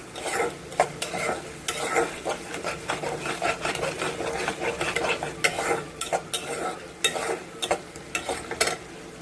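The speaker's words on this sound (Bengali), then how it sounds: "দিয়ে ভালো করে কষবো, ততক্ষণ না তেল ছেড়ে আসবে ততক্ষণ কষবো" Spice paste with salt frying in oil while a spoon stirs it briskly, a sustained sizzle broken by rapid, close scraping and clinking strokes against the pan, no voices.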